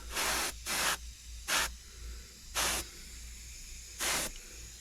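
Five bursts of a paint spray gun hissing semi-gloss paint, each about half a second long, separated by short pauses with a quiet background hum.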